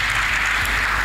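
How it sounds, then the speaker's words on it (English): A conference audience applauds in a dense, steady wash of many hands clapping, loud and continuous throughout. "Please put your hands together for"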